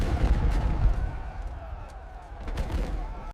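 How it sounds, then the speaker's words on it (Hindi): Cannon artillery fire booms in a heavy, rumbling burst, with a second blast swelling near the end, loud and dense with low rolling echo. "बाबर की तोपों ने अफगान सफों में खौफ फैला दिया।"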